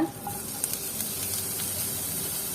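Grated paneer frying in hot oil in a pan gives a steady, bright sizzle with a few soft stir clicks near the start, close and fairly quiet.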